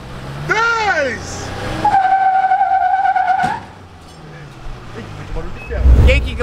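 Ford Ranger and Toyota Hilux pickup trucks locked in a tug of war, engines roaring and tires squealing and skidding under strain, with loud shouting voices over the mechanical noise.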